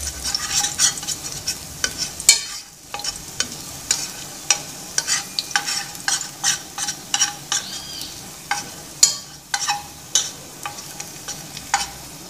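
Garlic sizzles in a pan for carne de panela, with scraping stirs and frequent sharp clicks of the utensil against the metal over a steady frying hiss, close and fairly loud, with no talking.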